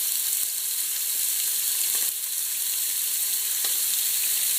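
Sofrito with onion and pepper sizzles steadily in a hot pan while cooking Dominican-style stewed meatballs, a loud, even hiss throughout with a couple of faint clicks and no talking.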